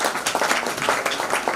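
An audience claps loudly at a retirement function, a dense, continuous round of close applause from many hands.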